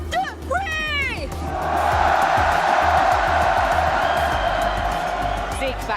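A large arena crowd at the Fortnite Global Championship in Lyon roars and cheers continuously, loud and sustained, with shouts and whoops rising above the din.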